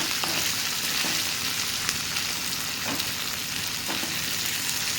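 Potatoes and carrots frying in a pan with a continuous, fairly loud sizzle and crackle, plus a few soft stirring scrapes, and no one speaking.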